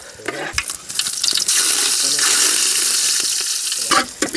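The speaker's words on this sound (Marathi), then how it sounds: "टोप आपला एकदम खतरनाक तापला आहे तर त्याच्यात आल्या टाकूया लसूण लसूण टाकले आहे" Garlic drops into oil in a very hot pot, bursting into a loud, steady sizzle after a few clattering knocks, then dying down briefly at the end.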